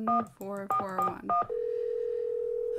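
A telephone number is dialed in the 2002 Nancy Drew game Secret of the Scarlet Hand, with a quick run of distinct keypad tones followed by a long steady ringing tone.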